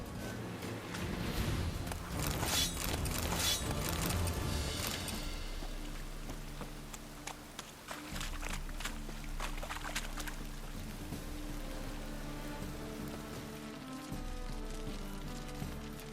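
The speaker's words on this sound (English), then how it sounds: "Rain again." Rain pours down in The Witcher 3: Wild Hunt, a steady hiss of drops on surfaces with brief louder splashes early on, continuing evenly at moderate volume with no talking.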